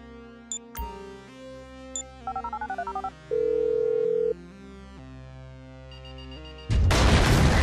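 A phone being dialed in the video game GTA 5: a series of quick keypad tones, then a sustained tone, with a louder burst of noise at the end.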